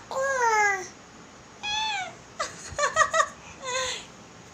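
A small child imitating a cat, giving several high drawn-out meows and squeaky mewing calls in short bursts with pauses between, close and fairly loud.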